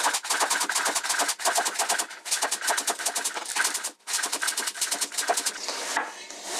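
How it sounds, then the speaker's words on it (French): A knife roughly chopping fresh dill on a cutting board, a fast run of crisp, even taps in steady bursts with one short pause, close and clear, with no talking. "on a sorti le bout couteau et on cisèle grossièrement"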